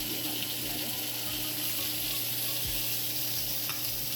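Chicken steak frying in a pan over high heat, a loud continuous close sizzle with faint scraping and occasional low thumps underneath.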